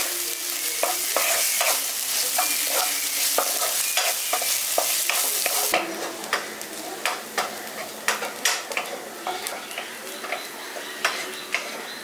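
Chopped onions fry in oil for village-style soya keema masala, a steady loud sizzle punctuated by repeated scraping stir strokes, the hiss easing partway through while the clicking spatula taps continue close by.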